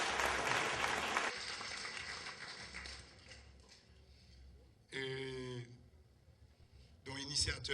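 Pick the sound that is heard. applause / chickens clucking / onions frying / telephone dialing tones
applause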